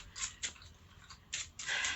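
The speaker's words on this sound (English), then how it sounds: "Then I'm gonna have to shuffle again." A deck of cards being shuffled, heard as a few quick riffling bursts separated by short pauses, fairly close and with no talk.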